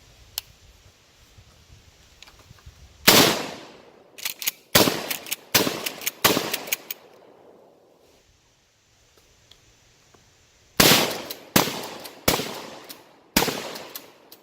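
Rifle fire at a Running Man target on an outdoor range on a windy day, loud close shots in two bursts of several rapid rounds each, sharp reports with short decays and quiet gaps between, no talk.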